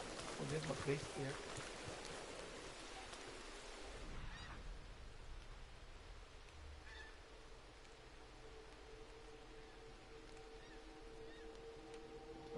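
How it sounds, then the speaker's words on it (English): Geese honk in a PS4 hunting video game, faint calls standing out in the first few seconds over a low game ambience of wind and water, with a player talking quietly at times. "I know, I hear the geese."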